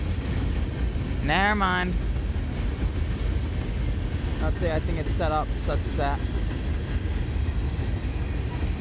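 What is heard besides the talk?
coal train passing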